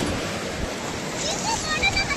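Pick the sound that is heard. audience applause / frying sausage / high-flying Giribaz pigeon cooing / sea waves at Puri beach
sea waves at Puri beach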